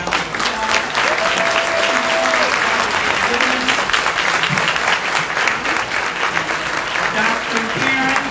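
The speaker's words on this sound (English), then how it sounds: "Let's give him a round of applause." A round of applause from the audience at an Urban League diversity and inclusion luncheon, loud and sustained across the whole stretch, with faint voices and a brief whistle-like tone threaded through the clapping.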